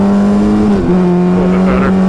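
A race car accelerating on a wet track at Summit Point Raceway: a loud, close engine holds a steady, droning pitch with a brief dip as the revs shift, heard from inside the car, alone without talking.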